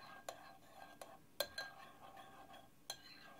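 A spoon stirs tamarind paste and spices in a bowl, producing a few faint, scattered clinks and scrapes that stand out against near silence.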